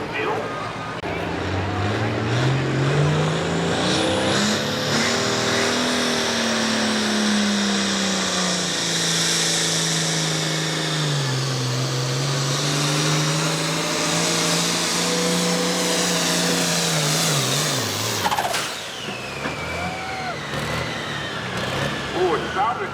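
A pulling tractor's engine roars at a tractor pull in Langford, NY, holding a loud, sustained run that rises and dips in pitch for most of the pass before cutting off abruptly near the end, with crowd noise and voices around it.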